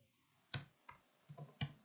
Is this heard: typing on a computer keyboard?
yes